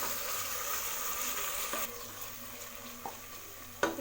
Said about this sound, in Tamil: இஞ்சி பூண்டு பேஸ்ட்டு போட்டு நல்லா வதக்கிட்டோம்